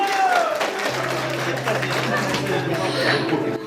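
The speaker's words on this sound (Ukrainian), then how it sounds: "Ваші оплески для Михайла!" Wedding guests at a ceremony in Ivano-Frankivsk region applaud a groomsman with steady, continuous clapping, heard alongside a low hum and a voice talking over it.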